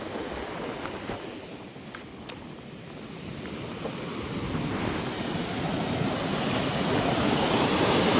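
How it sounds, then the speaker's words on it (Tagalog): Big sea waves pound the beach at Bucana under a strong southwest monsoon wind, a continuous roaring surf that swells louder toward the end, with wind buffeting the microphone. "Palaki na palaki yung ano, yung alon ngayon, oh."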